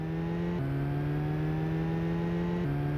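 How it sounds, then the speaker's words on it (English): A steady, buzzy synthesized engine drone from a Lotus car in a Commodore Amiga racing game, holding a constant pitch with brief step changes, loud and continuous with no talk or music. "you can't hear the hot Lotus engine humming if we have hot jams"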